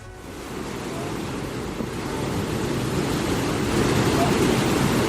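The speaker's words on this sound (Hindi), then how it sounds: "पहाड़ से अचानक बड़ी मात्रा में पानी नीचे आ गया है" Flash flood water rushes down from a mountain in Poonch, Jammu and Kashmir, after a cloudburst, a steady, roaring wash of noise that slowly grows louder over five seconds with wind buffeting the microphone.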